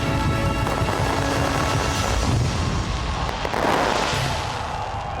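Fireworks at the Esports World Cup opening show in Saudi Arabia, a dense continuous roar of bursts and crackling from a large live crowd event, loud and unbroken.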